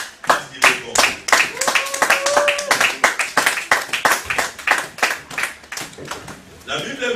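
A church congregation at a Sunday service claps in a steady, brisk rhythm, the many hands loud and close, with voices mixed in beneath.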